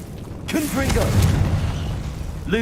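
A Confringo blasting spell in Hogwarts Legacy bursts suddenly after a short voiced cast, then rolls into a sustained low rumble lasting about two seconds, with a voice speaking over the start and end.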